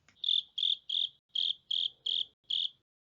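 A cricket chirps in seven even, evenly spaced bursts, each a steady high trill, clear and close against a silent background with nothing else heard.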